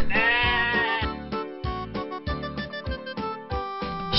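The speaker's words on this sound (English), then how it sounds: "Sheep." A sheep bleating in a repeated, wavering series of tonal calls, clear and close, with no talk over it.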